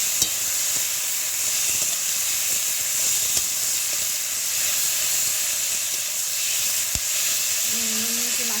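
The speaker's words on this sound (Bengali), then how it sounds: "মাছগুলো দেওয়ার পরে আমি ভালোভাবে একটু নাড়াচাড়া করে নিই।" Spiced raw fish frying in hot oil in a wok while being stirred, a steady close sizzle and hiss running throughout with occasional scrape of the utensil.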